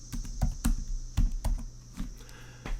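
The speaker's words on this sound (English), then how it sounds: "Now I'm going to finish typing the program." Typing a program on a computer keyboard, irregular clusters of sharp key clicks and thumps at close range, with short pauses between bursts and no talking.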